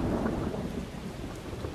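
Rumbling thunder rolls over steady, heavy rain on surfaces, loud and continuous for a short stretch with no voices.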